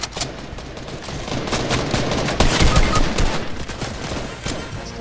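Loud, dense volleys of gunshots in the Fortnite video game, overlapping shots cracking in rapid succession throughout, with a heavier burst near the middle.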